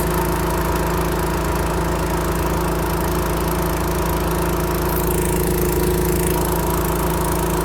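Mack R600 truck engine running steadily at idle, a loud, close, continuous low rumble with a constant throb and no pauses or changes in pitch.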